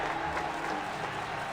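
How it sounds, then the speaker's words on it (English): Crowd applause bursting from invitees at a club feast in the video game Reverse: 1999, a steady, dense wash of clapping held at an even level for the whole short moment with no talk over it. "The invitees burst into applause."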